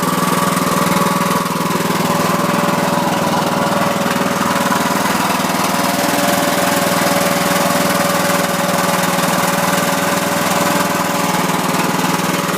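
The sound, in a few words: Troy-Bilt Super Bronco engine running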